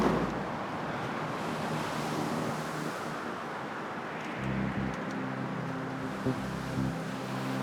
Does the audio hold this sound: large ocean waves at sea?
yes